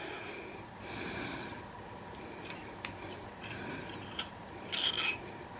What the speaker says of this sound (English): I remove the handguard, the gas tube, and the gas piston.